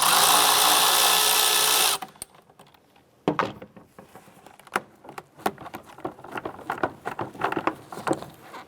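An 8mm socket wrench loosens a hose clamp on a 1994-2004 Chevrolet S-10 during water pump work, giving irregular close metallic clicks and ratcheting taps after a loud burst of broadband noise at the start.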